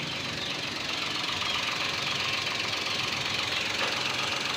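A steady engine idle of an 8-month-old 2023 Toyota Wigo hums continuously at close range, a low rumble with a faint rhythmic knock and vibration, and no talking.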